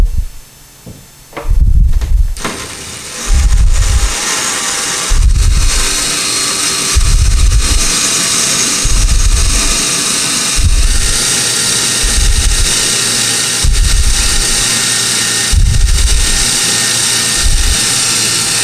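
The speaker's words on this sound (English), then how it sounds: "Be careful as you're drilling because when you break through the drywall in the back, you don't want the drill to hit into the tile and split it" A drill bores a hole through tile, running in a steady high whine with repeated low thumping pulses roughly every second and a half, loud and close with no voices.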